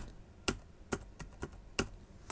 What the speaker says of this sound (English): we can use the less than, greater than keys on the keyboard